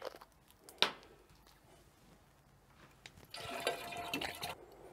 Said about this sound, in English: Now we should just add the rest of the water.